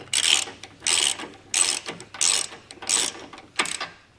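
Ratchet wrench undoing 18mm nuts on a trailer hitch bumper beam, six quick bursts of close, loud clicking about half a second apart with short pauses between.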